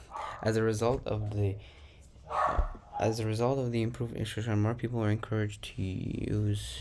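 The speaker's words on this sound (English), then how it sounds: "Sorry about my dogs barking." Pet dogs barking at home, short yaps breaking in repeatedly beneath a steady voice reading aloud, the barks fairly close and about as loud as the talking.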